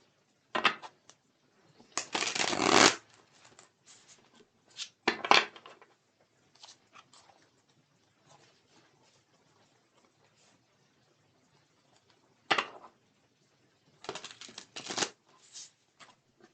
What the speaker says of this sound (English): All right, let's shuffle these cards up.